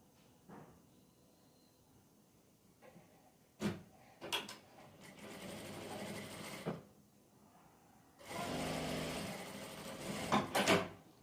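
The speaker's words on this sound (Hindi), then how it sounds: "रखने के बाद हम शोल्डर पे सिलाई लगाएंगे।" A sewing machine stitches the shoulder seam of a shirt in two main bursts of whirring, with short clicks and handling knocks between them and quiet pauses around them.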